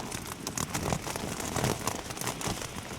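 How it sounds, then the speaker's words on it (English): Dense patter of rain drumming on a nearby tent, steady and close, with no voices, during a windy winter night camping on Great Mis Tor, Dartmoor. "It sounds like it's raining out there as well."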